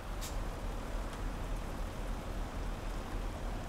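Rain in the video game Euro Truck Simulator 2, a steady dense hiss of falling rain with a low rumble beneath, continuous and even, with no voices.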